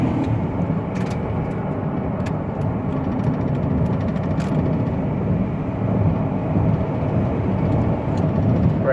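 A 2005 Dodge Caravan SE wheelchair mobility van accelerates on a highway, its engine, road and wind noise forming a steady, broad roar from inside the cabin with a few faint clicks.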